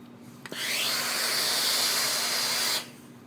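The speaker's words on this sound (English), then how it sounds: "I can literally hit this with steam" A Reliable Iron Maven steam iron releases a strong, steady hiss of steam onto a silk jacket, starting with a click and lasting about two seconds close to the mic before cutting off.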